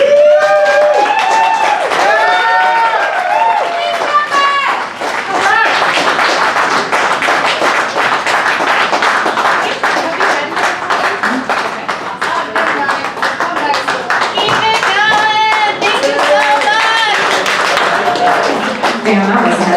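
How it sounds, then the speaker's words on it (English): An audience at a birthday show breaks into dense applause and scattered cheers after a spoken-word poetry performance, the clapping steady throughout while voices and shouts rise through it. "Let's give them another round of applause"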